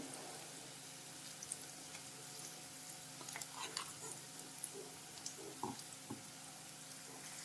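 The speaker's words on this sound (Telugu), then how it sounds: "ఇలా యాడ్ చేసుకొని ఇది కూడా బాగా ఫ్రై చేసుకోవాలండి, పచ్చివాసన పోయేంత వరకు." Onions frying in a pan with green chili and garlic paste for a spinach fry, a soft steady sizzle with occasional light stirring clicks and drips, fairly quiet and close.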